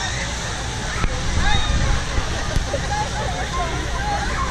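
Water sloshing and lapping in the lazy river at Hurricane Bay water park, a steady close wash with small splashes over a constant outdoor rush, with a faint babble of distant crowd voices underneath.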